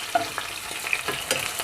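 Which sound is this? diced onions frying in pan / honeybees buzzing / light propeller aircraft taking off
diced onions frying in pan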